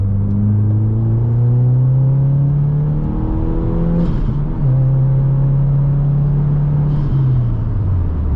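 A car engine revs up strongly, its pitch climbing, dropping briefly at a gear change, then climbing again; loud and close, with no talking.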